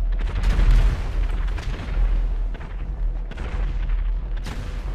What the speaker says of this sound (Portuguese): Galera, uma explosão!